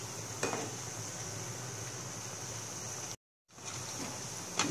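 Maggi noodle pakoras frying in hot oil with a steady soft sizzle, while a utensil stirs and scrapes the pan in a few light clinks, close and quiet, with a brief dropout midway.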